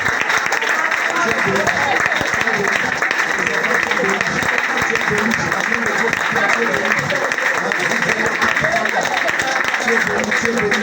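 A church congregation at a prayer service cries out in acclamation and prays aloud at once, a loud, steady wall of many voices with clapping mixed in, sustained throughout without a break.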